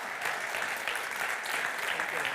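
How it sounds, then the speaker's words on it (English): Audience applause at the European Mobility Week 2017 and SUMP awards ceremony, a continuous crowd of hands clapping, steady and fairly distant, with faint voices underneath. "a warm round of applause, please"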